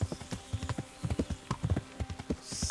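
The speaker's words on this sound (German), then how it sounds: "das Pferd ist wenigstens jetzt schön schnell" Horse hooves gallop in quick uneven clip-clop beats in the medieval video game Kingdom Come: Deliverance, steady and close for the whole stretch, with a brief hiss of noise near the end.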